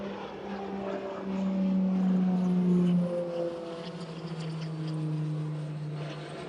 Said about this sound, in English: One of the Beach King just departing overhead.